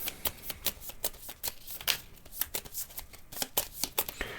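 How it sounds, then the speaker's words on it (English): Board game cards being shuffled by hand during a solo tabletop campaign of ISS Vanguard: a run of quick, papery riffles and flicks, close and moderately quiet, with no talking. "Need to give these a shuffle."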